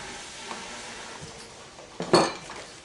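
A whisk scrapes and clinks around a bowl of banana pudding, mostly soft stirring with a louder burst of metal-on-bowl clatter near the end, close and alone with no talking.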